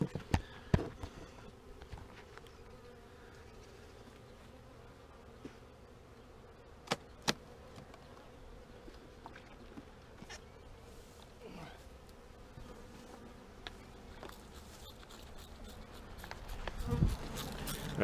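Steady low buzzing of many honey bees close by in an opened hive during an inspection, with occasional sharp taps and knocks and a louder rustle near the end.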